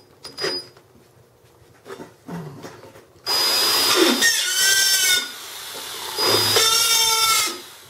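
A power tool grinds a taper onto the tip of a 1/4 x 18 NPT pipe thread tap during Dana 60 axle locker work. A few quiet handling clicks come first, then a loud, steady whining roar runs about four seconds with a brief dip midway.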